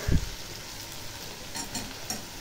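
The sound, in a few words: dried prawn shutki frying with onion and garlic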